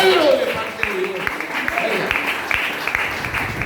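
A church congregation claps in scattered, steady applause, a moderate wash of hand claps heard at close range with crowd voices murmuring underneath.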